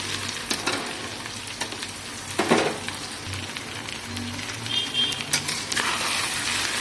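Goat brain frying in oil with ginger and garlic, a steady broadband sizzle with scattered spoon scrapes and brief stirring clatters, close and moderately loud throughout.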